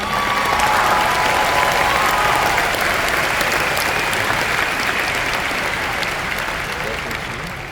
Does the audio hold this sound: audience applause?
yes